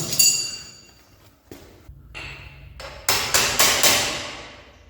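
Tapping on a brake part of a BMW F800GS motorcycle during a brake pad change: a few scattered light metallic knocks, then a quick run of four sharp, ringing hammer taps close by, with no talk.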